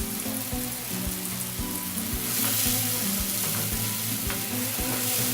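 Cumin seeds sizzle and crackle steadily in hot oil in a pan for chicken handi, a dense close frying hiss with faint stirring taps and no talk.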